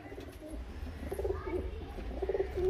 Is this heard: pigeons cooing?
yes